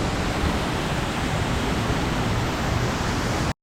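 Waterfall at Disney's Animal Kingdom: a steady, loud, full rush of falling water with no gaps, cutting off abruptly at the end.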